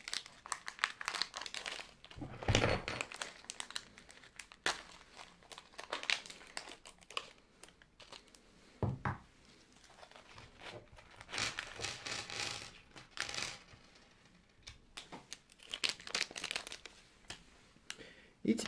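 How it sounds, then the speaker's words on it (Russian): Plastic packaging around robot kit parts gets opened close up, with irregular bursts of crinkling and tearing separated by quieter gaps and light handling noises. "Открываем упаковочку."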